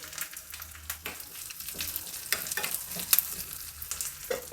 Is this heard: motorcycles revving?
no